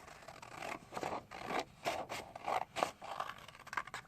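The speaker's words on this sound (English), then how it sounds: "And then I'm going to cut it in half." Scissors cut folded black paper in half with a series of faint, close crisp snips and scraping rasps in an irregular rhythm, with no talk.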